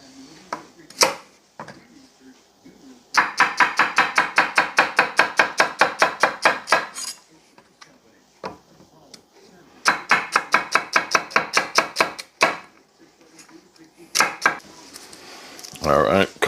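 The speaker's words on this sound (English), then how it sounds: "So let me chop up some of this" Knife chopping celery for a leek and potato soup, heard as quick bursts of rapid, even cutting strokes on a board, close and crisp, separated by pauses with scattered single knocks.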